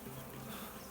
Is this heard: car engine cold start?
no